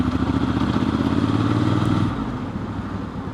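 A Triumph Scrambler 1200 XE motorcycle's 270-degree crank parallel twin idles and pulses steadily nearby in a throbbing, uneven beat, then drops slightly in level after a couple of seconds.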